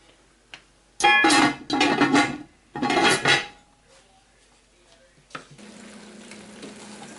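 Potatoes frying in a pan while being stirred with a metal utensil: bursts of loud scraping and clattering against the pan, then a soft steady sizzle underneath.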